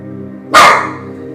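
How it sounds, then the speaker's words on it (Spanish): One sharp, loud bark from a pet dog close by, a single burst that fades quickly. "voy a sacar el perro para poder estar ladrando"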